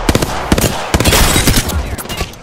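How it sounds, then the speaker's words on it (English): Rapid loud bursts of missiles launching in the battle royale game Apex Legends, a close barrage of sharp repeated blasts overlapping into a dense roar before tailing off. "launching missiles"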